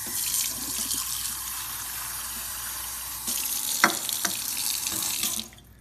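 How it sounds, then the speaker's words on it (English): Water from a tap running steadily as kiwi seeds are rinsed in a sink, a close, continuous hiss with brief splashes that stops abruptly near the end. "You really want to rinse these out over and over again."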